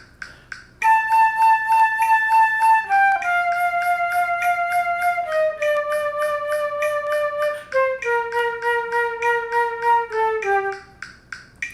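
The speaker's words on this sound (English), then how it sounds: "So really I'm just kind of doing connected air accents in there to pulse the subdivision." A solo flute plays a slowly descending line of sustained notes, each one pulsed with rhythmic breath accents that mark the subdivision, clear and close with brief gaps between phrases.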